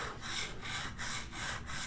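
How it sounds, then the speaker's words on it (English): A hand plane blade is sharpened by hand on a sharpening stone, giving a steady back-and-forth rasping scrape in five or six even strokes, close and fairly loud, with no talking. "I'm going to sharpen on this."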